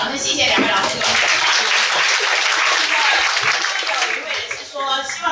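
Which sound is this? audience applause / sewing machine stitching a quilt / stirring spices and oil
audience applause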